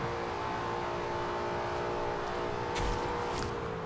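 A 2013 Ford Shelby GT500 muscle car engine in the Forza Horizon 2 racing game drones steadily under hard acceleration, with a sustained high-revving whine. A couple of brief clicks cut through near the end.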